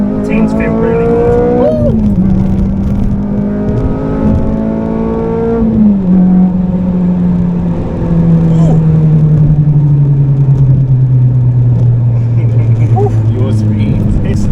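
Honda Civic Type R FN2 fitted with a K24 engine accelerating on a road, heard from inside as a loud engine note rising through gears with shifts, under voices talking.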